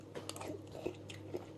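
Soggy breakfast cereal is chewed close up in a few soft crunches and wet squishy bites, quiet over a low steady hum.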